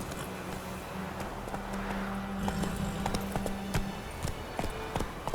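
Hoofbeats from a horse pound in quick, uneven thuds over a constant background hum, fairly close and moderately loud for a few seconds.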